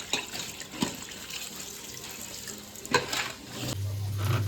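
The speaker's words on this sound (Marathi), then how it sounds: "ते पण स्वच्छ दोन ते तीन वेळा आपल्याला धुवायला लागतात" Running tap water splashing over crabs being washed in a kitchen sink for a Konkan-style crab curry, with intermittent sharper splashes and handling sounds and a low hum building near the end.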